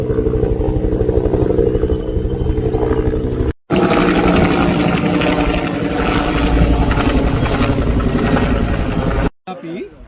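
A helicopter flies close overhead near a protest at Thaiyiddy, its loud, steady rotor roar filling the whole stretch, broken twice by brief cuts.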